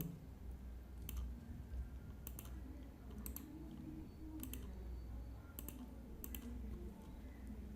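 Keys on a computer keyboard are tapped in short bursts of clicks at a steady distance, entering lottery results into a spreadsheet over a low constant background hum.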